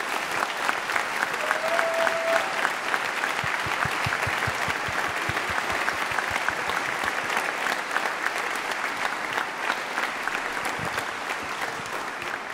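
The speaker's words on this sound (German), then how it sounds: "Darum geben wir euch einen grossen Applaus mit auf den Weg" Audience applause after a music camp's closing concert, a dense sustained clapping from a large crowd that turns briefly into rhythmic unison clapping partway through, close and loud throughout.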